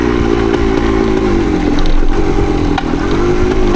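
A 1975 Yamaha DT250 motorcycle engine drones loud and steady on a trail ride. It holds an even, buzzy pitch throughout, with slight swells in revs and no voices.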